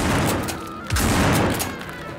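Gunfire from an FAL rifle in the co-op zombie survival game No More Room in Hell, a dense burst of shots over a steady noisy game background.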